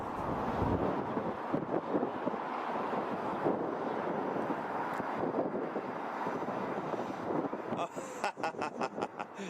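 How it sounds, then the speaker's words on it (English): Gusty outdoor wind buffets a microphone on a blustery day, a loud continuous low rumble that swells and dips throughout, with fluttering bursts near the end. "it's blustery"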